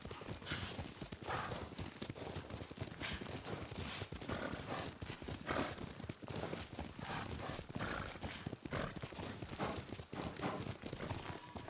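Horse hooves galloping in the video game Ghost of Tsushima, a rapid, continuous clip-clop rhythm at close range throughout, with occasional whinny-like sounds and some faint voices.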